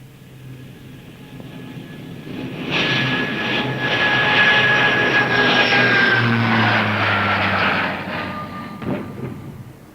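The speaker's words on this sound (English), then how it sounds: "aircraft of the Royal Air Force dipped low in salute." Royal Air Force aircraft dip low in salute at Tanganyika's independence ceremony, a loud engine roar that swells in, holds for several seconds overhead, then fades away.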